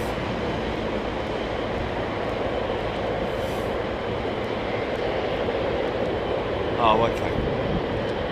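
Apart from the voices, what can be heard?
jet airliner engines at Heathrow airport during go-around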